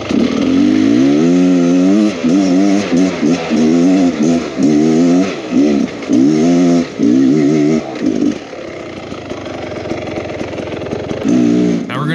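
A 2023 Beta X Trainer 300 dirt bike engine revs hard and close while climbing a hill in a riverbed, its two-stroke wail rising and dropping in repeated throttle bursts before a brief lull and another surge.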